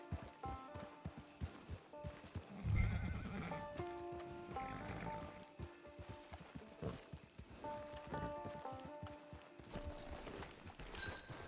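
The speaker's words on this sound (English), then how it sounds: "Get your horse." A horse in the Red Dead Online video game clip-clops steadily at a walk and lets out a loud, close whinny over a low background of game ambience.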